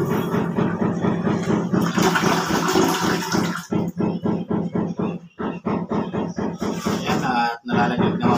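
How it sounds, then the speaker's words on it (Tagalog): A newly installed toilet bowl is test-flushed, with loud rushing, gurgling water filling and draining for a few seconds before the flow fades. Voices then talk over the softer trickle. "Ayan, at nalalaglag naman po yung tubig."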